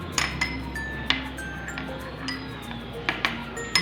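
A spoon stirs tamarind pulp with spices in a bowl, making light, irregular clinks and taps against the dish, close and fairly quiet, with a faint voice in the background.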